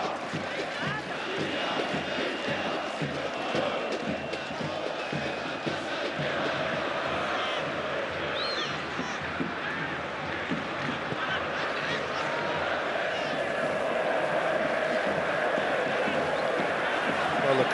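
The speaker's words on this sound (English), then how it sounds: "the crowd may not be inspired by the football, but they are still singing their songs" A football stadium crowd chants and sings together through a Club World Cup match in the UAE between Palmeiras and Al Ahly, a dense, steady roar of many voices that swells slightly toward the end.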